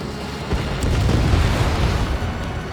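An enemy bomber blows up in the Ace Combat 7 flight game, a broad rumbling boom that swells after half a second and rolls on for a couple of seconds under a steady roar.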